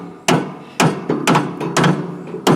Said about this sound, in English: Using his tool and hammer and screwdrivers.